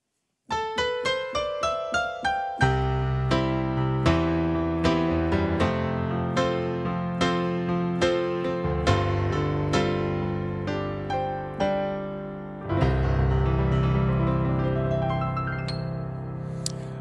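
Solo piano playing rich, rolling chords with flourishes and sustained bass notes, a full gospel-flavored feel, steady and clear with no voices.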